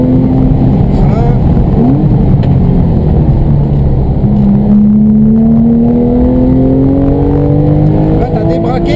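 Car engine rising in pitch as it accelerates after the clutch is released during a driving coaching session, a loud steady drone under an instructor's voice.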